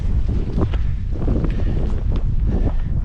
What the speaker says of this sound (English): A little breezy, so it's a little cooler up on these balds.